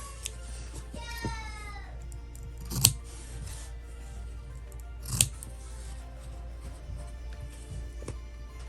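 Two sharp scissor snips clipping the fabric corners of a sewn zippered crossbody bag, a few seconds apart and close up, over a soft background hum with a faint high voice early on.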